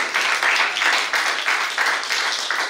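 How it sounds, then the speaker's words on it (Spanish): A church congregation claps in a steady, rhythmic beat, about two claps per second, moderately loud and filling the room throughout. "Dale un aplauso al Señor."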